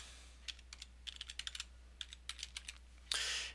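Quick, light computer keyboard typing in short clustered bursts of keystrokes, close and quiet, ending in a brief louder rustle.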